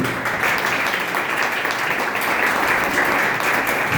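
An audience at a writers' conference applauds a presenter, a steady, dense wash of clapping that holds evenly loud for the whole stretch.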